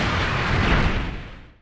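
A robot blows itself up in an anime, heard as one loud, close, rumbling explosion that swells briefly and then fades away.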